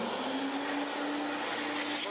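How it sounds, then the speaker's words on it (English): A CFX carpet-cleaning unit runs with its vacuum and pump both on, giving a steady, loud, continuous whine and rushing roar with a faint constant hum, unbroken throughout. "And we use the vacuum of the CFX in addition to utilizing the pump"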